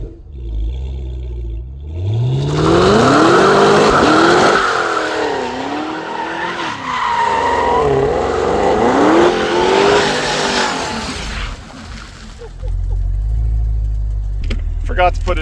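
A Cadillac CTS-V (Gen 3 V, about 640 hp) engine revs hard during a burnout with a long, wavering tire squeal, loud and close, then drops back to a rumbling idle.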